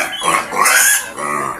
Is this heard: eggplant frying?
no